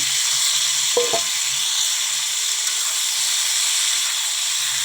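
Steady, loud sizzling of panch phoron spices, dried red chillies and vegetables frying in hot oil fills the scene, with a brief clink of a utensil early on.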